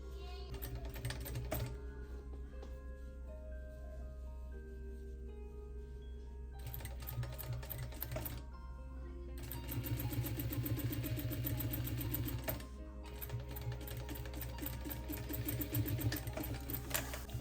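Sewing machine stitching the slit placket on a shirt sleeve, a steady mechanical whir in bursts that pause and restart, close and clear with a low motor hum throughout.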